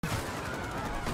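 Rapid gunfire from the Bees and the Squirrels video game, a dense, continuous burst of shots over about a second with no talking.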